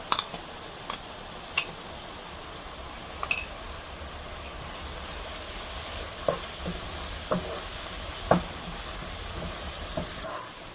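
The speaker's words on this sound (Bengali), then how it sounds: "মশলাটা ভুনা হয়ে গেছে" Ground spices (dried chili, coriander and cumin powder) with ginger and garlic paste frying in a pan, a continuous close sizzle punctuated by scattered clicks and scrapes of stirring.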